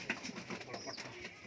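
Spotted kalsira pigeons coo softly at close range, with low murmuring calls over light background noise.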